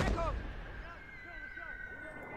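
An artillery gun fires in a war video game, a single deep boom at the very start that rumbles away, followed by faint tonal game effects.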